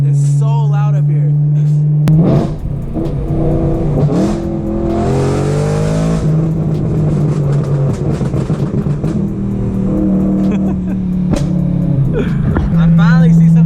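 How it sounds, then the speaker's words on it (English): A BMW E92 M3 revs and accelerates on a canyon road, its engine rising and falling loudly through several gear pulls, with the sound echoing off the canyon walls under someone talking. "my car just echoes throughout the whole canyon. It's so loud up here."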